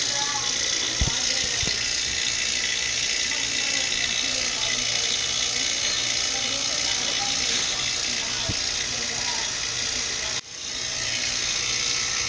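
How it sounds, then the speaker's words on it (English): Vacuum pump running steadily while evacuating an R-290 refrigeration system with a bad compressor, giving a continuous close mechanical drone with a few faint clicks, and a brief dip near the end. "Process of vacuuming it down now."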